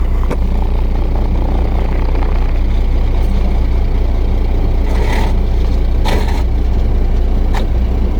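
A truck engine idles steadily and loudly in second gear during a parking brake check, with a low constant rumble and a few short hissing bursts like air brakes toward the end.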